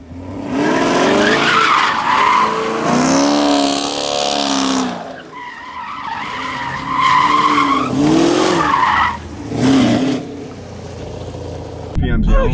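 Car tires skid and squeal while the car spins donuts, a loud sustained screech with the engine revving beneath, and voices talking over it throughout.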